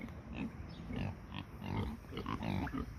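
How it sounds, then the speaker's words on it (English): Several pigs grunt and snuffle close by in a steady, overlapping series of low bursts, with no talking. "Pigs are very interested and wondering if I brought snacks."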